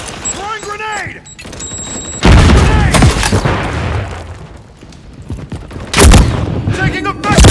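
Call of Duty Modern Warfare 3 firefight: bursts of rapid gunfire and sharp booms from a grenade explosion, loud and close, with heavy blasts near the start and again later amid continuous battle noise.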